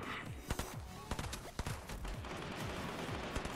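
Gunfire in the video game Fortnite: rapid sharp shots in uneven bursts, some close and punchy, over a continuous hiss of game ambience.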